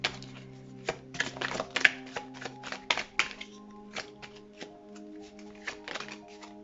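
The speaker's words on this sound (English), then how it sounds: "Let's shuffle a little bit your cards so that we can get your messages." Tarot cards shuffled by hand close up, with quick riffling flutters and soft slaps coming in uneven bursts, fairly quiet, with no talking.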